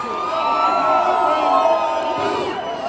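A club-show crowd cheers and whoops loudly, a dense roar of voices and shouts filling the space, continuous and close throughout.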